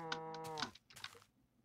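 A single cow moos in the Minecraft video game, a loud, close, drawn-out low call followed by a short fading tail, with no talk.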